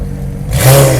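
A Mercedes-AMG GT engine revs up sharply, a close, loud rising roar after a lower, quieter rumble, heard alone.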